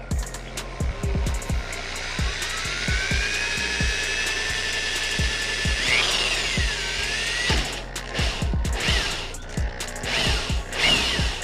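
A dull drill bit bores a hole through a motorcycle fairing during a USB charger install, giving a steady, close whine that rises in pitch and falters around the middle, over scattered clicks and knocks.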